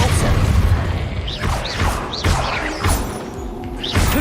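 Depulso force spell striking in Hogwarts Legacy combat: a run of heavy thuds and crashing impacts, with whooshing sweeps between the hits, loud and close across several seconds amid busy battle noise.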